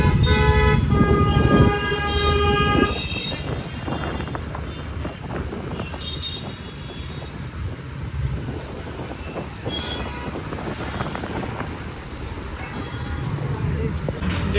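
Road traffic passing near a roadside stop, with steady motor rumble, a sustained horn toot in the first few seconds, and wind buffeting the microphone throughout.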